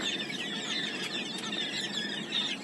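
Chickens cluck near a poultry seller's pens, several birds overlapping in short, scattered calls over a busy farmyard background.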